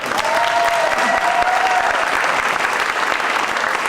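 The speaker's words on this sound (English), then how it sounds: "Can we give him one more round of applause?" A school showcase audience gives a sustained round of applause, dense continuous clapping with a brief whistle early on, steady and loud throughout.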